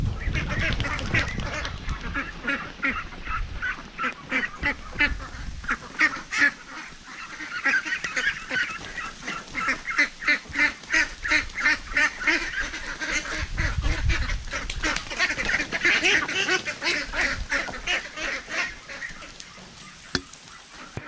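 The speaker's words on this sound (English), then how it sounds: "That's all it takes with the ducks." A loud, continuous chorus of many ducks quacking and honking close by, excited and overlapping throughout.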